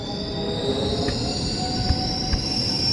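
A passenger train on a local run toward Chennai rolls past with a steady metallic rumble and a continuous high-pitched wheel squeal, plus a few brief sharper squeaks, loud and close throughout with no talk.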